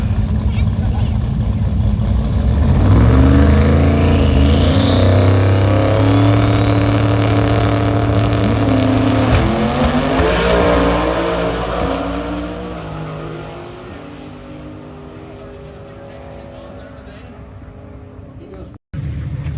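A 5.3 LS-swapped Nissan 240SX drag races an old-school Chevy II on the Indianapolis oval at a street-car event, with loud, low engine drones rising in pitch through hard acceleration, then fading as the cars pull away, with a voice talking over it.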